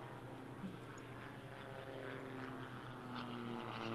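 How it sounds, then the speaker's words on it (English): A large military transport plane, a Lockheed C-5, rumbles at the Oshkosh airshow with a steady, distant engine drone and faint crowd and outdoor background. "here, we have a C5. That is an enormous airplane."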